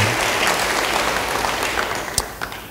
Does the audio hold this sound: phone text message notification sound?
no